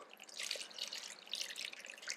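Fresh buttermilk poured over salted chillies for sun drying, a soft continuous trickling and splashing with light drips, close and fairly quiet.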